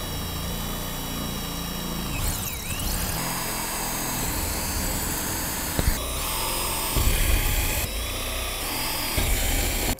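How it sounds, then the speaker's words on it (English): A power drill bores into the corners of a camper roof made of thick high-density foam, ahead of a rooftop air conditioner install, a loud whining drone with a few sharp bursts and knocks. "I like to use the drill to just make it easier to drill into each corner"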